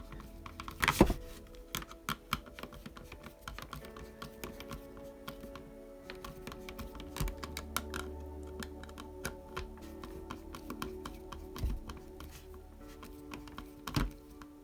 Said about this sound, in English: So let's screw this one in.